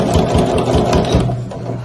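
A sewing machine stitches bias binding onto a pre-printed fabric zip pouch, a loud, close, steady rapid whirring hum with a fast needle pulse, running briefly without talk.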